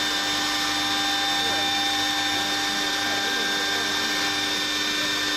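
CNC lathe spindle spinning at full speed, a steady machine whine with sharp tonal lines held constant throughout, with faint talk in the background.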